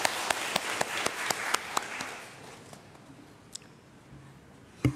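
Council delegates at a Da Nang city People's Council session applaud to congratulate a vice chairman, a short burst of scattered hand claps that thins out and fades after about three seconds, leaving near silence.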